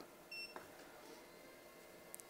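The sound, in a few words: start-up beep of Fossibot F2400 power station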